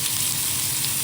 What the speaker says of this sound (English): And now everybody's sizzling away here.